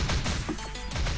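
A short, sharp crash from an explosion in a shooter video game, with a loud impact followed by brief debris-like rumble, no speech.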